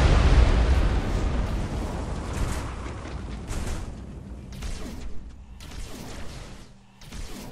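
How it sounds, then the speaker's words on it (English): Torpedo barrage in Battlefleet Gothic: Armada 2 opens with a heavy, close explosive rumble that fades into a string of shorter bursts and pops, the impacts spaced irregularly and growing fainter. "Fire another barrage of torpedoes."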